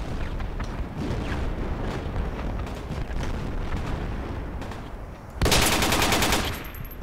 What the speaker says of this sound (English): Some green tracers, big machine gun.